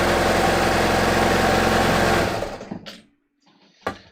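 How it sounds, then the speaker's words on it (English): Sewing machine running with nothing under the needle, a fast close mechanical whirr that stops after about two seconds, followed by a couple of small clicks. "then I'm going to sew in the air"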